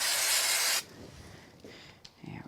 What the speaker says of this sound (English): I'm just going to use a bit of spray glue to get to all the detail on this one